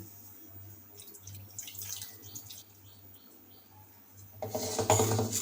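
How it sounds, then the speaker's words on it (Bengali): Water from rinsing a mixer jar splashes into a kadai holding a mustard and poppy-seed paste for eggplant with hilsa fish, starting with faint drips and then a louder, close pouring rush near the end. "জল দিয়ে দিয়েছি মিক্সি ধোয়া জল"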